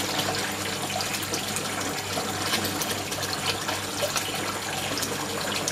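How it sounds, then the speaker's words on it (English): Water rushing steadily through a siphon in a small aquaponics grow bed, a continuous loud gurgling flow with no voices. "I'm testing out this siphon again"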